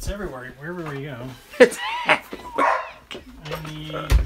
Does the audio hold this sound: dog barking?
yes